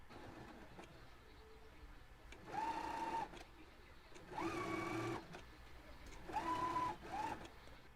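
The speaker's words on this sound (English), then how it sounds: "Do your machine basting stitch and just stitch all the way around the hem of the sleeve and the tie." A sewing machine runs a basting stitch around a sleeve hem in three short, even bursts separated by brief pauses, fairly quiet and close, with no talking.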